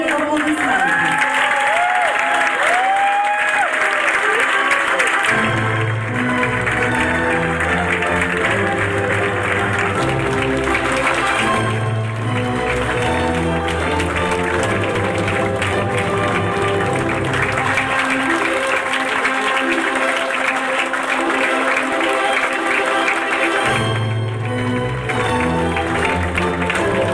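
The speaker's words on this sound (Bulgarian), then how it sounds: "Вашите бурни аплодисменти!" Wedding guests at a celebration give the newlyweds a long, enthusiastic round of applause, steady clapping running under loud band music with melodic lines and drum beats throughout.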